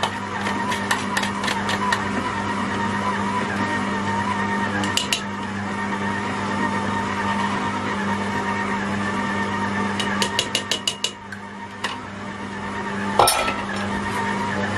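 A stand mixer whirring steadily as it mixes a cake batter, with a constant motorized hum throughout and intermittent clinking bursts of the beaters against the bowl, close by.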